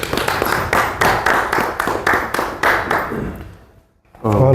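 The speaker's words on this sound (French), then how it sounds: "Voilà, on peut applaudir." A group of people clapping in a close, regular rhythm of distinct claps for several seconds, then trailing off into brief quiet before a voice starts speaking.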